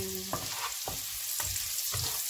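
Garlic sautéing in a pan for stir-fried oyster mushrooms, a steady hiss of frying oil punctuated by four evenly spaced stirring knocks, close and clear with no talking.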